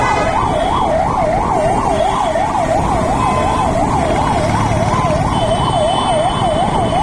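An ambulance siren wails continuously in quick, even up-and-down sweeps, prominent over steady Bangalore traffic noise throughout.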